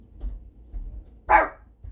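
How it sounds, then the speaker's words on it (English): A dog named as the household pet gives a single sharp bark near the microphone at a home doorway, loud over quiet room noise, with faint low rumbling before and after. "Fargo, don't bark. That's my dog."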